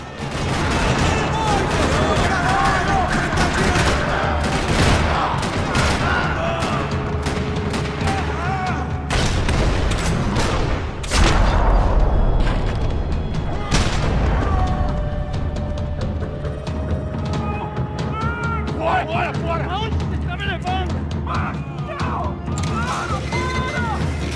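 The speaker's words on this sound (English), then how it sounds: "Another parking lot rattling with gunfire." Rapid bursts of gunfire in a parking lot in the video game Max Payne 3 rattle almost nonstop alongside crashes and booms, with voices calling out over the dense, chaotic battle noise.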